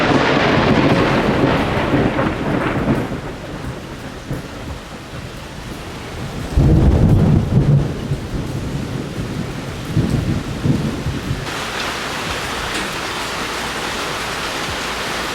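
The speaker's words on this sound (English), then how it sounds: "Lightning like struck that tree like right next to me." Thunder from a lightning strike very close by during a storm, a heavy rumbling crack over steady rain, surging loud and then rolling off under continuing downpour.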